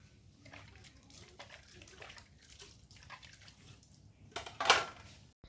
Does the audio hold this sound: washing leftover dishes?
yes